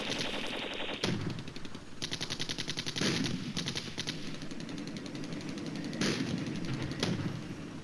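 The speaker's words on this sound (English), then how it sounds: "Tanks are firing at each other, but to no avail." Tank gunfire in the Flashpoint Campaigns Red Storm video game, with rapid repeated bursts of shots and several sharp booming blasts over a continuous loud battle din.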